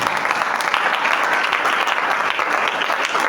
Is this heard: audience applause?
yes